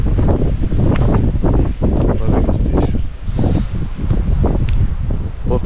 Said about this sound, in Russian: Ветер так и не хочет успокаивать. Ветер пришел.